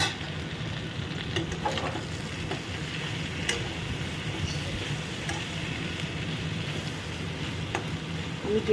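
Okra and prawns fry quietly in a pan, giving a soft, steady sizzle with occasional light ticks and taps from stirring.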